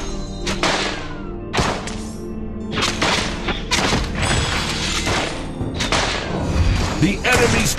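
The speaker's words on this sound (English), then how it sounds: "The enemy's turret has been destroyed." Heavy booming thuds and impacts in the mobile MOBA Dota Mobile as an enemy turret is destroyed, recurring in several loud hits over dense game music and effects, with announcer speech in between.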